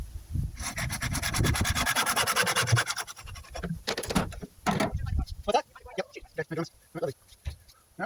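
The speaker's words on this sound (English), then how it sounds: "the easiest way to cut this is with hacksaw. Goes through it like butter." A hacksaw cuts through a plastic overflow pipe with fast, rhythmic rasping strokes, loud and close at first, then breaking into shorter, scattered strokes toward the end.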